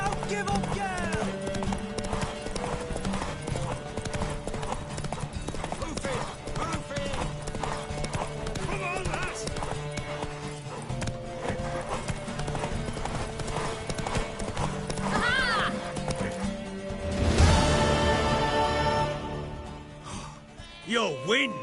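Horse hooves clip-clop in a steady galloping rhythm with a whinny, set against game music and sound effects, with a voice speaking at points.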